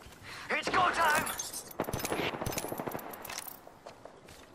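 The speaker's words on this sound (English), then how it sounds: "I am taking fire, friends. Firing." Rapid automatic gunfire in Apex Legends rattles close and loud in dense bursts, with shell clinks and impact cracks layered through, a brief pause, then more fire.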